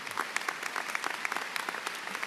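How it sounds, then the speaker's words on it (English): An audience at a high school graduation claps for kindergarten teachers in a short, steady burst of applause with scattered individual claps standing out, moderately close. "Let's give them a round of applause, please."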